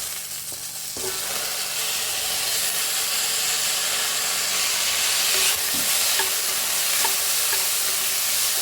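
Fresh raw peas stir-fry in a hot pan, a steady loud sizzle with occasional scraping stirs and light clinks, continuing without talk after a brief softer start.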